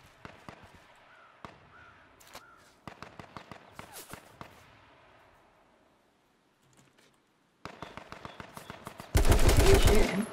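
Gunfire rings out in a battle royale shooter: scattered single shots, then regular bursts, and a loud sustained burst of automatic fire at the close, with quiet gaps between.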